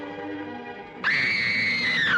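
A woman in a 1943 British film lets out a loud, sustained high-pitched scream that cuts in suddenly after a lower vocal sound and holds steady for about a second.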